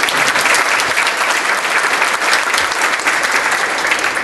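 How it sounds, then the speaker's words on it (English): Steady, dense audience applause fills a hall at a mayor's State of the City address in Oxnard, holding loud and even throughout without a break. "just to give her a round of applause."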